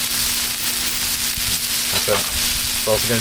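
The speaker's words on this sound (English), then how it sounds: "Give it a stir so it doesn't burn" A sauce sizzles loudly in a pan while being stirred, with scraping stir strokes near the end over the continuous frying hiss, close and prominent.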